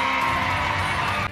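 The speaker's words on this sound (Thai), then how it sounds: "ขอเสียงดังๆและปรบมือต้อนรับท็อป3 Miss and Mr. Supra National Thailand" A live audience at the Miss and Mr. Supranational Thailand 2023 pageant cheers and shouts loudly to welcome the top three finalists, a dense, steady crowd roar that cuts off abruptly at the end.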